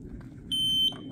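Ninebot F2 Pro electric scooter's anti-theft alarm gives one sustained high-pitched beep of about a third of a second, clear and close over a low background hum.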